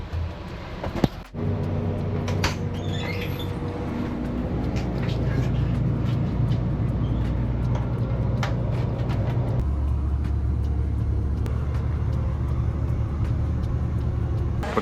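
Inside a moving bus in Thailand traveling from Bangkok toward the ferry to Koh Phangan, a steady loud engine and road rumble fills the cabin, with faint voices and a few knocks early on.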